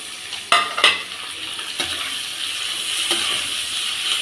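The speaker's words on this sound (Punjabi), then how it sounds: "ਹੁਣ ਪਾ ਦਾਂਗੇ ਆਪਾਂ ਟਮਾਟਰ" Tomatoes drop into a hot frying pan for pasta: two or three close thuds and splashes, then a steady loud sizzle with a few soft stirring scrapes, and no talking.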